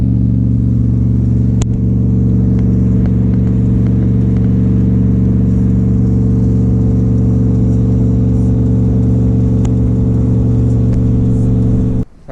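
A lifted half-ton pickup with a cammed LS engine, pulling a trailer at a slow pace, its low engine drone steady, loud and close for the whole stretch, with faint rattles on top, then cutting off right at the end.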